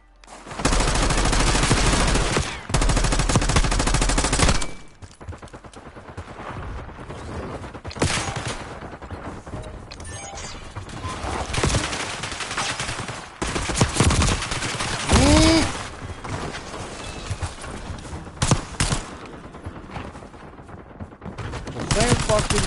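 Loud bursts of automatic gunfire from a Call of Duty Warzone match on Rebirth Island in Resurgence mode, heavy volleys in the first seconds, then scattered shots and rattling bursts continuing under a voice.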